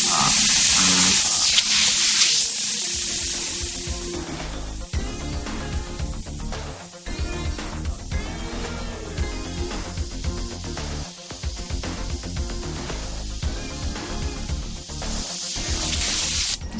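An airbrush sprays paint in repeated bursts, giving a loud hiss that starts and stops over and over at close range.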